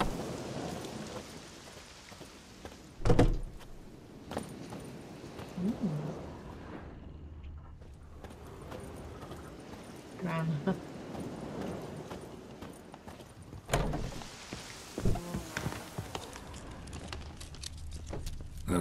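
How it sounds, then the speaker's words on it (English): Rain in The Witcher 3, a steady soft hiss of rainfall with occasional low thunder rumbles and horse hooves clopping intermittently, moderately quiet overall. "Looks like rain."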